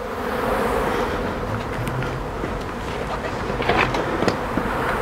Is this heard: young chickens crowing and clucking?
no